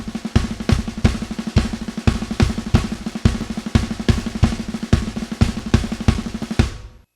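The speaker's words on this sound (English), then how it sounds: "he just puts a bass drum on the beginning of each of those phrases" Drum kit playing a repeating paradiddle-style sticking pattern, with a bass drum kick landing at the start of each phrase, loud and close, steady fast strokes without talk, ending abruptly.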